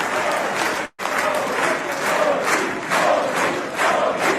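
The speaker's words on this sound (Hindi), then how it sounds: "देख लो, ताली वास्तविक सम्मान में बज रही है।" Sustained applause from lawmakers in the Israeli parliament, a dense continuous wash of clapping with a brief cut near the start, loud and steady throughout.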